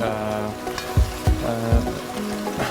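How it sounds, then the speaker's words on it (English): Eggplant deep frying in hot oil over high heat, a steady bubbling sizzle with a few louder crackling bursts and low thumps as pieces shift in the pan. "as the eggplant is being deep fried right now"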